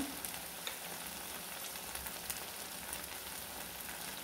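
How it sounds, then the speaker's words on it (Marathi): Masala for an Indian vegetable dish sautéing in oil in a pan, a faint, even crackling sizzle like light rain, with a few small pops and no talking. "आपण हा मसाला छान तेल सोडूपर्यंत परतून घ्यायचा."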